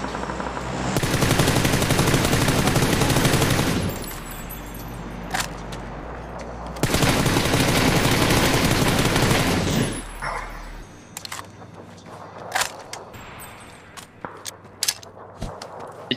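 Bursts of automatic gunfire in the battle royale game PUBG: two long sustained volleys followed by scattered single shots, loud and close.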